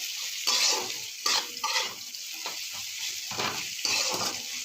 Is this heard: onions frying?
yes